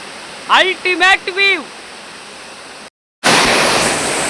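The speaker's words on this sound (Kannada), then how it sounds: "ನೀವು ನೋಡ್ತೀರಾ ವಾಟರ್ ಫಾಲ್ಸ್ ಅನ್ನು?" Broadband rushing of the Balnadu waterfall in Karnataka's hills, a steady loud roar filling the last second, after a brief tonal voice-like call and a short gap.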